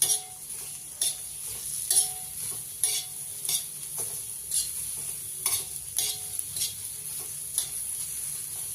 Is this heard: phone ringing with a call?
no